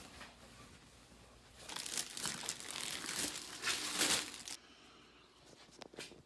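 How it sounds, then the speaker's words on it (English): Plastic wrap being peeled off a plastic roof wing for a car, soft crinkling and tearing rustles up close, swelling for a few seconds and then fading to quiet with a final crinkle. "Alright, got all plastic wrap off."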